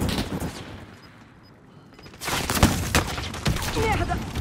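Gunfire in the video game Call of Duty: Modern Warfare: a loud burst of rapid shots breaks in after a quieter stretch, with sharp cracks and ongoing fire, mixed with game noise.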